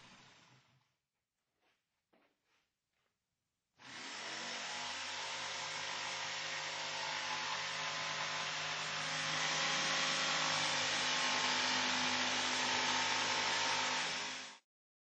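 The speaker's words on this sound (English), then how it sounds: "Power up the saw and then slowly and carefully tip the saw down until the blade begins to nibble at the board." Jigsaw plunge-cutting into a wooden board: a few faint clicks, then a loud, steady motor whine and buzzing blade chatter that holds at full power for about ten seconds before stopping abruptly.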